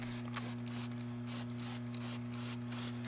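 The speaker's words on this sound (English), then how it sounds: "I do really like the spray pattern on these Maniac sprayers." Repeated spritzes from a Maniac trigger spray bottle spraying tire and wheel cleaner, a steady rhythm of hissy bursts over a constant low electrical hum, with no voices.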